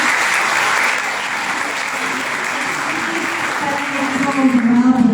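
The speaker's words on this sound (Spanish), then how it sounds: "Aplausos por favor." Audience applauding an honorary award winner at a municipal innovation event, a steady burst of clapping that stays even throughout and swells slightly toward the end.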